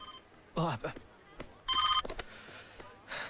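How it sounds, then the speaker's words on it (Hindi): A telephone rings in short bursts, twice, with quieter sounds and faint voices between the rings. "फोन बज रहा है।"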